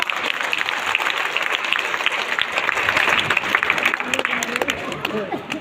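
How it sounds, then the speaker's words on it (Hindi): A crowd at a live comedy show in Bundi applauds in a full, continuous burst, with a murmur of voices mixed in beneath the clapping, tapering slightly near the end. "तालियां फिर कमजोर है आपकी"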